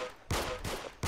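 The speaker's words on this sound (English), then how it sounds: "Shotgun!" Shotgun blasts in the Roblox game Arsenal, two loud broadband bangs about 0.7 s apart, with a third starting at the end, no talking.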